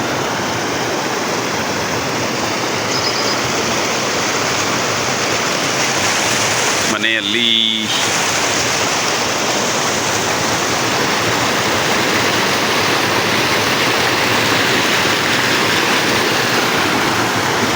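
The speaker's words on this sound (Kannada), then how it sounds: "ಇವಾಗ ನೋಡಿ ಎಷ್ಟು ನೀರು ಜೋರವೆ, ಎಲ್ಲ ಮೈರೆಲ್ಲ ಬತ್ತಾವೆ" Heavy rushing water flowing through fields after heavy rain, a loud continuous roar filling the scene close by, with a brief spoken word partway through.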